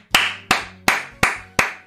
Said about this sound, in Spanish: Un aplauso a esta gente.